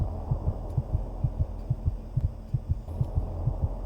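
A low, muffled heartbeat from the 2004 video game Doom 3 thumps in a steady double-beat rhythm over a faint hum, close and dull with no voices.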